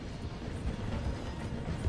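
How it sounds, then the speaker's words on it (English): A train slows down to pass through a station in the video game Red Dead, heard as a faint, steady low rumble with soft rolling clatter and no talk. "The train is slowing down to go through the station."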